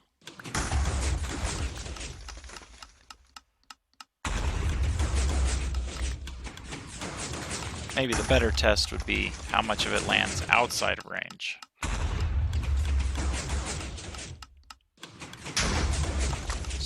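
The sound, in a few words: explosions in a video game (modded Minecraft tree farm)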